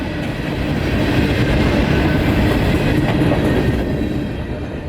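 Northbound freight train passing at night in Lakeland, Florida, a loud continuous roar of wheels and rolling cars with faint clickety-clack, heard alone without voices.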